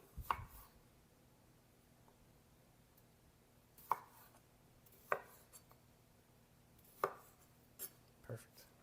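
Cherry tomatoes are sliced in half with a knife on a cutting board, giving sparse, quiet single cuts spaced a second or more apart.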